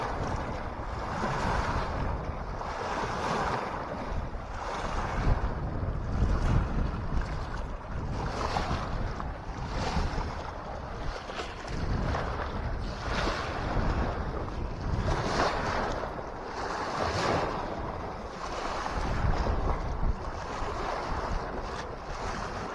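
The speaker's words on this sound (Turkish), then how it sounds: "Bugün biraz rüzgarlı ve bu nedenle de dalga çıkmış." Wind-driven waves lap at the shore of the Yusufeli Dam reservoir, a continuous rough wash of water and gusting wind buffeting the microphone, steady and fairly loud, with no voices.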